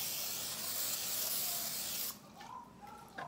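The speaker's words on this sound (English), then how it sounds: "you need to put cooking spray on it before you put the cookie dough on it" Cooking spray hisses loudly from a can onto a pan for about two seconds before cutting off, followed by quieter handling sounds.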